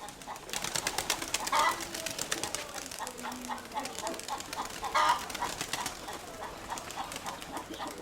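Pigeons coo in a loft, a series of soft rolling coos repeating close by with brief louder bursts, over faint background noise and occasional bird rustling.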